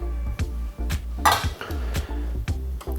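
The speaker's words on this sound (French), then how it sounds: "Nous allons commencer par faire chauffer la pulpe de mangue à l'intérieur de la casserole" Mango pulp and passion fruit heating in a saucepan, with repeated clinks and scrapes of a utensil against the metal pan in a steady stirring rhythm, close and fairly loud.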